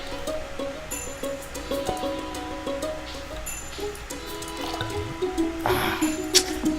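A bucket is filled with water in the Stardew Valley video game, heard as a run of light, bright dripping and splashing sounds over soft game background music.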